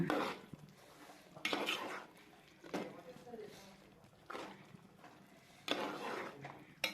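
A spoon scrapes and clanks against a pot of chicken curry in repeated stirring strokes, several bursts of metallic scraping with pauses between, fairly close.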